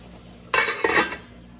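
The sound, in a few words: adding methi masala to chicken in a pan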